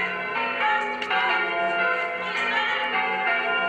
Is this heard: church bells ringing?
yes